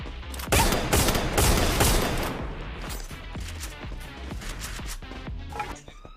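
Rapid automatic gunfire in a Free Fire esports match, a loud, dense burst of shots up front, then scattered fainter shots and game sounds trailing off.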